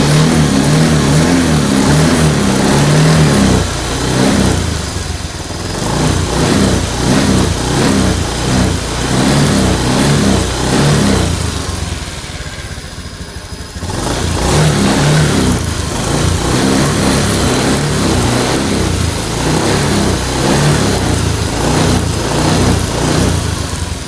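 A Honda Beat FI scooter engine with a fault that makes it stall, revving repeatedly in loud, close bursts that rise and fall for the whole stretch, dropping briefly toward idle midway before climbing again.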